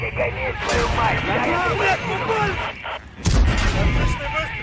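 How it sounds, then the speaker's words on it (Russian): Tank cannon shots fire in a tank video game with heavy booming blasts, a big one near the end, under constant excited shouting and talk from players. "Отличный выстрел!"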